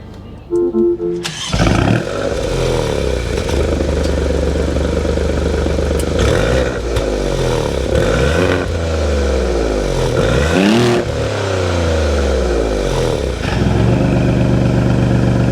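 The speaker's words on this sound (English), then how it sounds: "We need to go inside, start it up, so you can hear that exhaust." A 2024 Maserati GranTurismo Trofeo with the detuned Nettuno engine starts with a loud catch, then its exhaust revs repeatedly in rising and falling sweeps, close and unbroken throughout.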